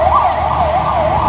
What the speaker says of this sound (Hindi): कोविड के दौरान एम्बुलेंस की आवाज हम सफर बनी रही।